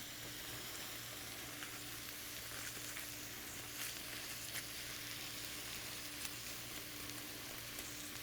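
Vegetables for butternut squash soup frying in a pan, a steady soft sizzle and crackle that holds evenly throughout at low level, with no talking.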